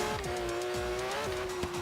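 Old Porsche drifting in Forza Horizon 3, a steady engine note holding a long tire squeal that shifts pitch mid-slide, with repeated skidding bursts throughout.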